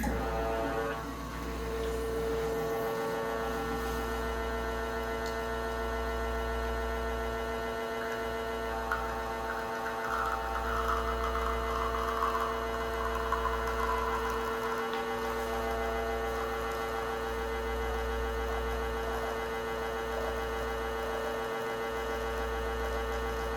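An espresso machine pulls a shot at home on a kitchen counter, with a loud, steady low pump hum droning alone and pulsing briefly every few seconds.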